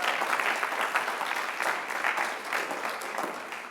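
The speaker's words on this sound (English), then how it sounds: "So let's give her a round of applause as well." Audience applauding for Mrs. Iniger at a 2023 high school senior breakfast farewell, a steady dense wash of many hands clapping that stays even and close throughout before easing slightly at the end.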